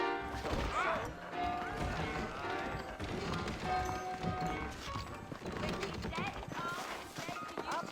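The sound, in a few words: horse hooves in video game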